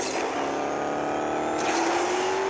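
A Chevrolet Camaro GS races in Asphalt 8, its engine a loud, continuous drone that climbs in pitch as it accelerates.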